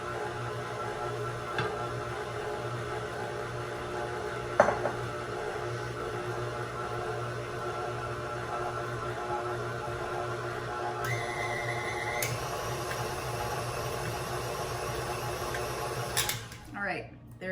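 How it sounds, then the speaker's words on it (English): An electric mixer churns chocolate chip cookie dough with a steady, close motor whir that holds unbroken throughout, a brief higher tone entering near the end. "This mixer and I are gonna figure out how to get along."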